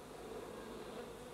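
A cartoon swarm of honeybees gathering, heard as a steady, dense buzzing drone that stays even and fairly soft throughout, with no voices over it.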